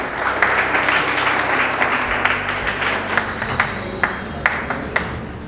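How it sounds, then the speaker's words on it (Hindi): Audience applause at a college Makar Sankranti function, a steady wash of many hands clapping that runs throughout, with a few sharper individual claps standing out near the end. "तालियां रुकनी नहीं चाहिए।"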